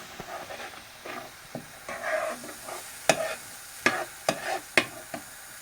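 Beef sizzles in a pan with chili flakes while a utensil stirs it, making a soft continuous fry broken by a series of sharp scraping knocks, close and without talk.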